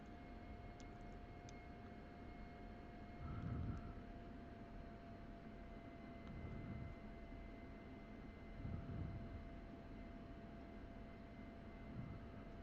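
Steady drone of a favorite plane's engine in the DCS flight simulator, a constant even hum with slight swells, heard alone without voices.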